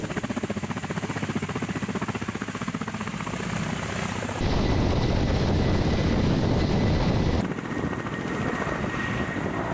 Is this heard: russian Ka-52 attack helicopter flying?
yes